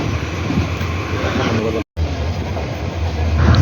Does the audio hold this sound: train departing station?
yes